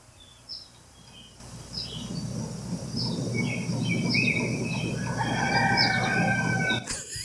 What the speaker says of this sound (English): It's like a legit rooster.